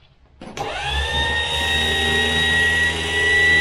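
A Vitals ZKA 8510j chain sharpening machine switches on after a short pause and settles into a steady, fairly loud, high motor whine that runs alone to the end.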